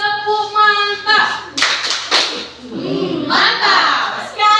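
A classroom of children joins in a rhythmic ice-breaking clap game, with a few sharp group claps between bursts of the teacher's voice and chanted replies from the class.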